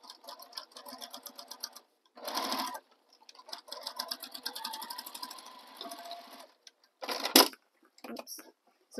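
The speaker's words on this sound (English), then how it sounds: "I'm not going to sew right on top of my previous stitching." A sewing machine stitches the bottom seam of a tote bag beside earlier stitching, running in short bursts that alternate with a person talking nearby.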